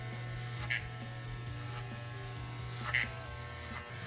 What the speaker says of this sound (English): as soon as that hair comes through the clippers, start rocking them away from the head